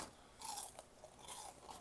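Crisp crunching bites of fried chicken skin repeat in quick bursts close to the ear, a brittle fried crackle with brief quiet gaps between chews.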